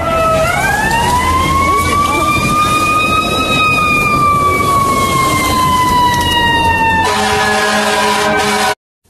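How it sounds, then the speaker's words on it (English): Fire truck siren wailing loudly and continuously, its pitch sweeping up and slowly falling, then switching to a different pulsing pattern near the end over vehicle rumble. "Fire truck."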